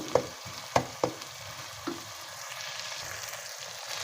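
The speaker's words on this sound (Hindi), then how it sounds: "इसको भी उस वक्त तक फ्राई करेंगे जब तक कि इसका कलर चेंज" Keema mince with garlic ginger paste fries in a pan, a soft continuous sizzle broken by a few sharp spoon knocks and scrapes early on, close but fairly quiet.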